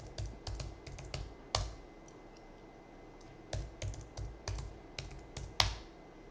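Fingers type a password on a computer keyboard in short bursts of crisp, close key clicks, with a brief pause in the middle and no voices.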